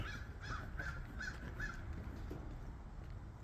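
A crow caws about five times in a quick, evenly spaced series, then falls silent, heard at moderate distance over a soft outdoor background.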